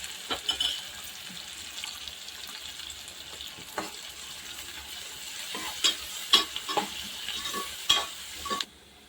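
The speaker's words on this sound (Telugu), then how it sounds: "పచ్చిమిర్చి ఇవి కొంచెం కలర్ మారేంత వరకు ఫ్రై చేసుకోవాలి" Green chilies and onions sizzling in a pan, with a soft frying hiss underneath and irregular scraping clinks from a spoon stirring them, close and fairly quiet, with no speech.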